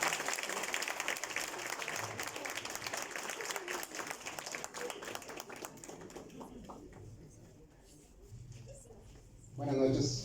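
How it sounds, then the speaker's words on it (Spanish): An audience at an evening talk on artificial intelligence breaks into sustained applause welcoming a speaker, dense clapping that gradually thins and fades before a voice begins speaking at the end. "¿Qué tal si damos un fuerte aplauso?"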